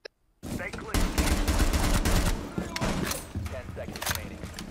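Rapid bursts of gunfire from the Rainbow Six Siege video game crackle after a brief quiet start, sustained automatic shots with a voice faintly mixed in.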